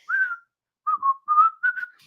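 A person whistles a short melodic phrase alone, a single held note and then a few quick rising and falling notes, clear and close.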